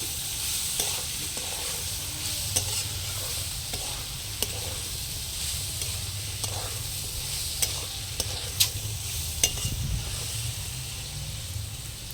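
Ground coriander and red chili powder fry in hot oil in a pan, a steady close sizzle with scattered scraping clicks as a spatula stirs them through, no talking.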